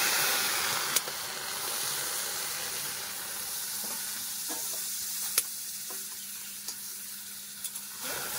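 Mango pulp cooks in a hot dry wok with no oil, giving a steady soft sizzle and hiss throughout, with a few sharp clicks and taps from stirring against the pan.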